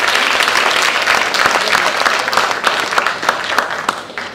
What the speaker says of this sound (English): So clap yourself.